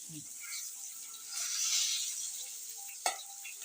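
Tilapia fish frying in a pan, a steady crisp sizzle swelling in the middle, with a single sharp clink near the end as a piece is lifted out.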